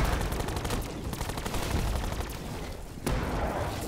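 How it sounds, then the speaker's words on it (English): Video game gunfire rattles in dense, sustained automatic bursts, loud and continuous with only a brief break. "you're currently shooting a literal scorpion"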